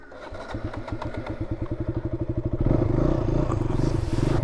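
A motorcycle started on a cold, dewy morning: a brief crank, then the engine catches and settles into a loud, close, steady idle.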